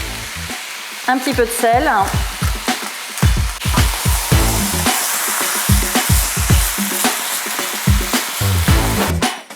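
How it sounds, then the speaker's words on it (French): Poultry searing in a wok crackles loudly with a constant bright sizzle, broken by repeated scraping and stirring strokes, while a voice speaks briefly near the start. "On va rajouter notre volaille et on va laisser saisir."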